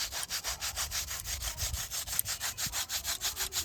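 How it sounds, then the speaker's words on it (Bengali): An old knife blade being scrubbed with a mesh scrubber, a fast, steady run of rasping back-and-forth strokes, close and even, with no talk. "এখানে একটা জালি নিয়েছি জাস্ট এইভাবে একটু ঘষে নেবেন"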